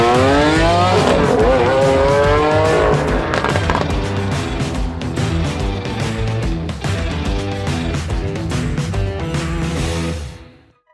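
A 2019 Lamborghini Aventador SVJ sports car revs hard close by, its engine climbing through rising pitch sweeps before settling into a loud rough roar, then cutting off abruptly at the end.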